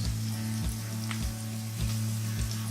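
Chopped onions roasting in a pan over a medium flame give off a steady, close sizzle and hiss, broken by soft, regular low thumps about every half second.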